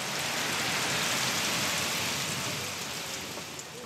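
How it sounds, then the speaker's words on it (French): Steady, dense rain pours down in a continuous even hiss, loud and close, easing only slightly toward the end with no voices. "depuis près d'un mois, la pluie tombe sans discontinuer"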